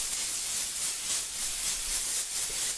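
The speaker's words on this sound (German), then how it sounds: "Mit dem Dampfsauger und der Punktstrahldüse können Sie das Problem relativ einfach und schnell" A steam cleaner with a spot-jet nozzle blasts a tap aerator clean, giving a steady, loud, bright hiss that runs unbroken with slight surges and no voices.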